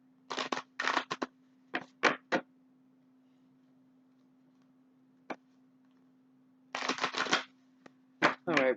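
Moonology oracle deck cards are shuffled in crisp bursts of riffling close by, with a pause in between, against a faint steady hum.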